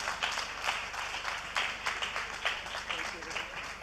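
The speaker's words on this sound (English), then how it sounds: "Can we please keep the applause coming for Haja Bala Usman?" Applause from the audience at a business lunch: steady, dense clapping in a large room, continuous throughout with gentle swells, at moderate distance and fairly soft.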